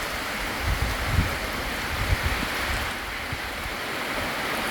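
Heavy rain lashes a Thai home while wind shakes the trees, a continuous roaring wash with low gusty rumbles swelling and easing underneath.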